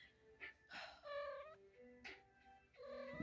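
A house cat wanting to go outside meows repeatedly at close range, with several drawn-out, whiny cries in an uneven rhythm.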